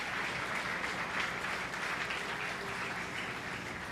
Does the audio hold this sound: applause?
yes